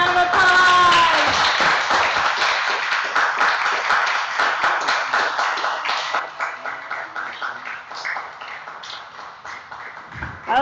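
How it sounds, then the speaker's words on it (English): Audience clapping at a National Honor Society induction and awards ceremony, a dense round of hand claps that starts full and gradually thins and fades over about ten seconds, with cheering at the outset. "Give him a round of applause."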